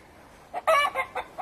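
Chickens near a house let out a few short, close clucks in quick bursts over about a second, with no other sound around them.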